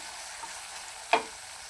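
Black masala and coriander powder are stirred in a frying pan, a faint quiet sizzle broken by one short sharp scrape of the spoon.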